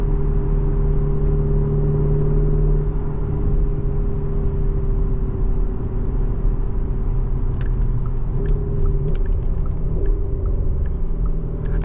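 A 2024 Porsche Cayenne Turbo GT with Tiptronic transmission rumbles loudly and continuously from inside the cabin while driving, the engine drone shifting pitch as it changes gear, with faint ticks and clicks near the end.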